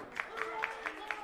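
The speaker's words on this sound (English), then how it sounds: "Everybody's clapping because Palace is out of here." A crowd claps at a Pittsburgh wrestling show as a wrestler leaves, several quick claps sounding over a hum of crowd noise and a voice.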